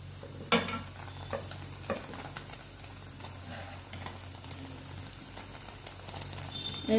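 White milk bread slices frying in a pan over low heat until browned, giving a soft steady sizzle with faint scraping and stirring clicks near the start and occasional light pops throughout.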